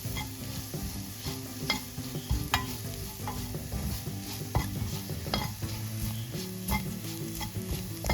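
Sliced onion and a tablespoon of crushed chili fry in a pan for a Kerala dried prawn dish, with steady sizzling and repeated scraping clicks of a spoon stirring against the pan.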